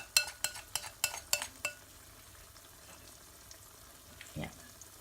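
Banana fritters fry in hot oil, opening with a quick run of sharp clinks and taps against a pan or utensil, then settling into a faint, steady sizzle with one soft bump near the end.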